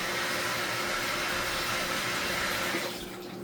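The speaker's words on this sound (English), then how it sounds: "So Grandma is going to wash her hands very quickly." Water runs hard from a tap as hands are washed before kneading cornmeal dough, a loud steady close rush that drops off near the end, with no talk.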